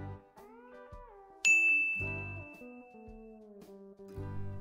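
A bright notification bell dings once, sharp and ringing with a long fade, over soft synth music tones.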